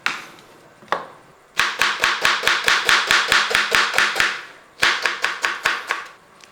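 Onions are chopped on a cutting board with a knife in quick, even bursts of sharp knocks, one long run of about fifteen strokes and then a shorter run after a pause, close and clear without speech.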